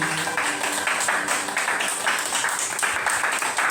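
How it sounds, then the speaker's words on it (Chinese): A choir class of teachers and students claps after finishing a Taiwanese song, a steady, dense patter of many hands that continues evenly throughout, filling the room at moderate volume. "请给自己掌声鼓励"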